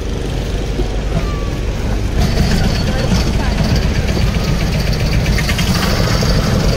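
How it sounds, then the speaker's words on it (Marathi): A boat engine on the Narmada river rumbles loudly and steadily. About two seconds in, it picks up into a stronger, throbbing idle, with heavy low-frequency vibration throughout. "चला आता आपण जात आहोत बोटीतून आणि बोट आता चालू करणार."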